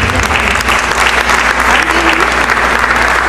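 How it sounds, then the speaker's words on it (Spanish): Loud, dense applause from an audience at a festive evening union gathering fills the whole stretch, steady and close, with voices blurred into the clapping. "esas palmas motivadoras en esta noche de fiesta"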